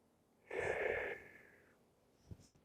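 A person lying on their back takes a long, deep breath that lifts the lower ribs, a loud airy inhale that tapers off, followed by a short sniff.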